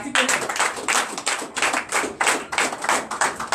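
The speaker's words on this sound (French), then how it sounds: "Donnez l'acclamation à Jésus." A congregation at a Sunday church service in Bénin claps in acclamation, sharp claps in a quick, steady rhythm, fairly close and continuous.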